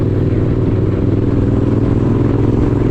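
A motorcycle out on a dirt trail ride gives a loud, steady engine drone with rough, clattering mechanical texture that holds throughout without a break.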